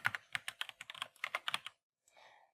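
Rapid, crisp computer keyboard typing in a quick run of clicks for under two seconds, then a brief softer rattle of keys after a short pause, close and clean.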